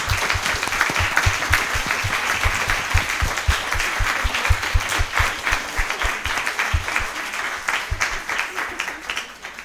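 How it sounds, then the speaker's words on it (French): A crowd at a French talk on feminist theory applauds warmly and for a long stretch, a thick steady roar of clapping with individual nearby claps popping through, holding strong and then easing slightly toward the end. "Je pense qu'on peut les applaudir."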